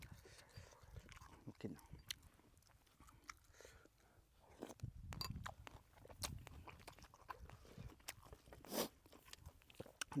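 Someone eats noodles close to the microphone, with soft, irregular slurps, bites and chewing over about ten seconds, accompanied by faint whispery mouth noises and a few quiet murmurs.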